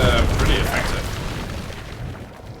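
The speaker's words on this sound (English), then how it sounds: "So, when you see a black explosion," A deep, rumbling black explosion from a rogue build's ability in Diablo 4 booms loudly at first, then fades into a sustained roaring decay over a couple of seconds.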